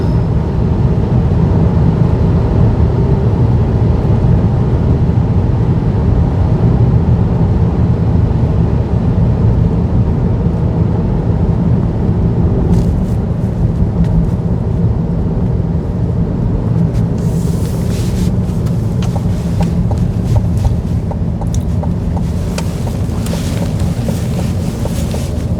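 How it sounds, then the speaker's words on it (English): Steady wind and road noise fill the cabin of a 2024 Chevrolet Blazer EV at speed, a loud, constant low rumble with a broad rushing hiss on top and occasional faint ticks. "there is some wind noise you'll hear. And road noise is moderate"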